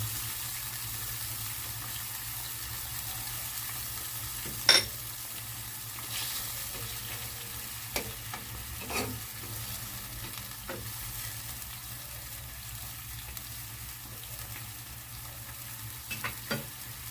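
Banana blossom stirring and cooking in a pan for Filipino letchon paksiw, a steady low simmer and sizzle with occasional scrapes and clinks of a utensil, close and fairly quiet.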